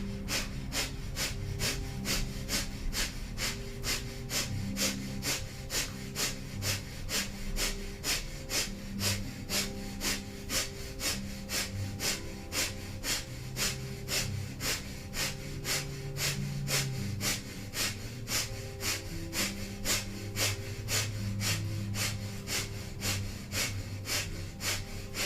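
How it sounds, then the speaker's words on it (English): Breath of fire in a Kundalini yoga ab kriya: rapid, rhythmic pumping exhalations through the nose repeating evenly and continuously, close and steady, over soft background music. "and we'll begin breath of fire."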